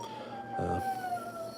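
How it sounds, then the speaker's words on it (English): A dog howls in a long, drawn-out tone that slowly falls in pitch, close by and fairly loud, with a brief rougher burst partway through. "I think my dog wants me to stop talking"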